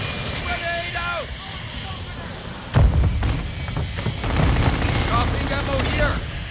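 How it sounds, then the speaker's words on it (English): A grenade explodes in Call of Duty Modern Warfare 2 with a single heavy, close thump midway, followed by scattered gunfire and battle noise, while voices shout over the fighting. "Grenade out!"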